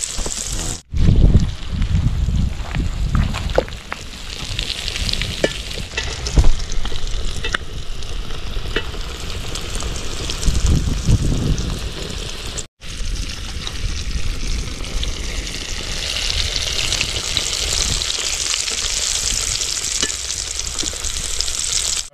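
Quail pieces frying hard in oil in a kadai, a loud continuous sizzle with bursts of stirring and scraping and one brief break midway.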